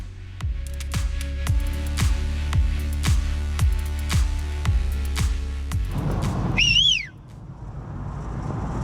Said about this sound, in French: Ça veut dire quoi ça quand tu siffles?